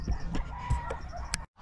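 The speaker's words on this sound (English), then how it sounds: "for egg-laying chickens" Egg-laying chickens cluck on a farm in Cebu, giving a few short calls over a low rumbling background. The sound is brief and moderately close, with no voices.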